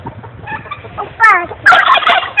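Chickens and fowl calling nearby, a run of sharp clucks and squawks that grows louder and busier toward the end, with animals being handled close by.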